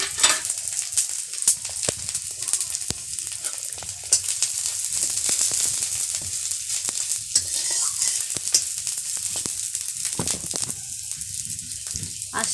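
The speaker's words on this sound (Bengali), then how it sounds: "এবার তেলের মধ্যে নারকেল কোড়া, কাঁচা লঙ্কা কাটা আর আদা কুচি ভেজে নিব একটু।" Grated coconut, chopped green chili and ginger frying gently in oil over low heat for a Bengali soybean malai curry, a steady close sizzle broken by frequent scrapes and clinks of stirring.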